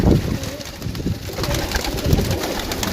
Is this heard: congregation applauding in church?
no